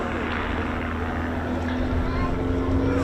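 An aerobatic display plane performing at the East Kirkby airshow gives a steady, broad engine roar that holds at an even, fairly loud level throughout, with no clear rise or fall.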